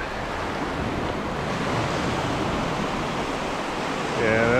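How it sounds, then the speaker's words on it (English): Rough surf breaks on a UK beach in rain and wind, a steady, loud wash of broadband noise with wind buffeting the microphone and a brief voice near the end. "the waves are breaking much closer into shore here"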